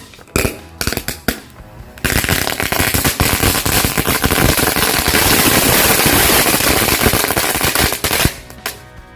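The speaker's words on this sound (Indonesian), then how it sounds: "kita lanjut lagi menyalakan 2 pak mercon telur dino" Dino egg firecrackers go off inside an Aqua plastic bottle, starting with a few separate loud pops, then a dense, continuous crackling barrage for several seconds, ending in a couple of final bangs.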